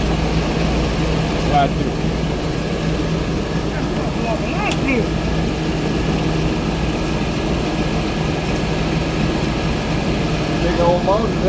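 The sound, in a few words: idling LS V8 engine in an OBS Suburban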